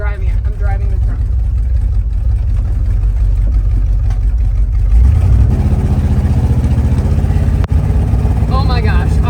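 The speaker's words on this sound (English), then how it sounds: "Guys, I'm driving it. I'm driving the truck." Old truck engine rumbling at close range as it pulls away and drives, rising in pitch and then holding a loud, steady drone, with someone talking over it.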